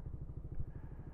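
Small engine driving a motorized river ferry raft floated on containers, near Old Quirino Bridge in Ilocos Sur: a steady, close, low-pitched chugging idle with an even rapid pulse.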